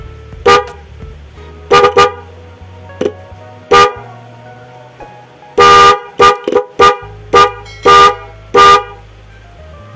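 Loud, shrill Denso snail car horns, a pair wired through a relay, honking in a series of short and longer blasts, with one quick pause and then several evenly spaced toots.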